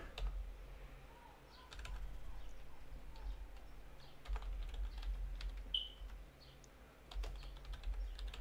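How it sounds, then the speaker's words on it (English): Fingers tap out a short entry on a computer keyboard, delivering uneven bursts of crisp, close clicks over a quiet room hum. "So then you type in Grizzly World."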